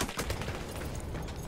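An M1917 Browning machine gun in Battlefield 1 fires a fast, unbroken burst of close, loud shots throughout, with no voices.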